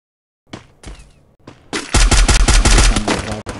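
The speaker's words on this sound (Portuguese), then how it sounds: "O time da CBR tá tomando tiro de um lá, tomando tiro de outro" Gunfire in a battle royale game: a few scattered shots, then loud, rapid automatic bursts rattling close up and packed tightly together, with no voices in between.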